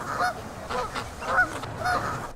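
Loud honking duck calls repeat about three times at a steady pace, close by, with no one speaking.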